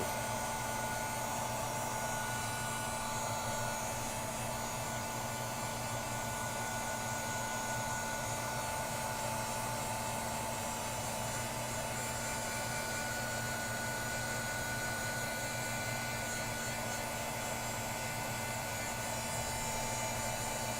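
A heat embossing tool blows continuously while melting embossing powder on a card, a steady, dense whooshing hum with a faint whine that never varies.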